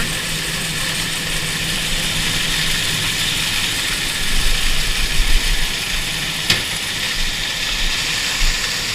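An IH 1086 tractor powers a feed mill grinding chicken feed, a steady broadband engine-and-mill roar holding constant throughout, with a brief sharp click midway.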